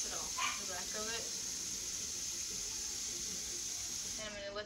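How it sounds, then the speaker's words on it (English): A light stream of water from a tap runs steadily as an ear sample slide is rinsed off, a constant hiss, while a person talks over it in short bursts. "I'm just going to take a light stream of water and I'm just going to rinse it off the back of it."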